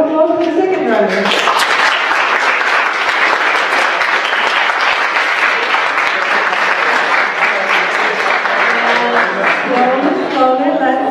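An audience at a StartupWeekend event in Zilina breaks into loud, sustained applause that fills the room, with speech heard at the start and end.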